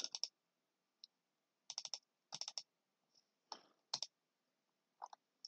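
Computer mouse clicks come in quick clusters of two to four sharp, close, quiet taps separated by silent gaps, with a few single clicks scattered between.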